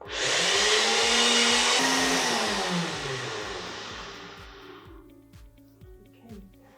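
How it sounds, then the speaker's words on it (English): A kitchen blender whirring through mac and cheese with peas, a loud steady motor roar that holds for a few seconds and then winds down to a fading rumble before stopping. "blended for 45 seconds, relatively quick"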